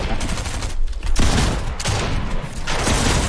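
Loud, close shotgun blasts in a video game shooter, several heavy booming shots in quick succession with little gap between them.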